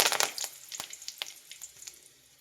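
Curry leaves dropped into hot oil with popped mustard seeds for tempering a tomato saaru, crackling in quick sharp pops that are loudest at first and then thin out into quieter spits.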